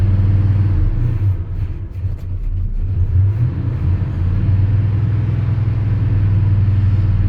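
Newly acquired 1985 Chevy Squarebody engine running close and loud at a fairly constant RPM, a steady low rumble with a slight dip in pitch partway through.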